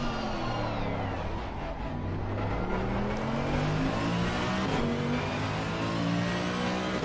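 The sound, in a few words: GT3 race car with naturally aspirated V8 engine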